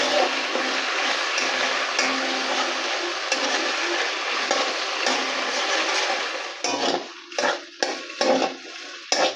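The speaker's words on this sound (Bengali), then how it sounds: "মশলাটাও কষা হয়ে গেছে" Spices and chickpeas fry in a pan as they are stirred. A steady sizzle runs throughout, and toward the end it breaks into a few sharp scrapes and knocks of a spoon against the pan. No one speaks.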